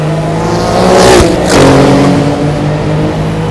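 Le Mans-winning Porsche 962 race car, about 650 horsepower and 850 kilograms, its engine roaring loudly and close up, swelling as it revs harder before settling back to a steady, powerful drone.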